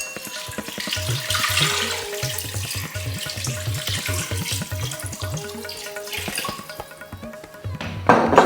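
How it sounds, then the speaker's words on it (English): Water pours over lamb meat in a pressure cooker for nihari, a steady splashing gush with gurgling pulses that runs for several seconds, eases near the end, then ends with a brief clatter. "Add water to cover the meat so it can be pressure cooked."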